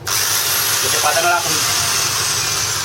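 Steady high-pitched whine of a single-speed electric hand drill spinning continuously at one speed, close and loud, with a faint voice briefly under it.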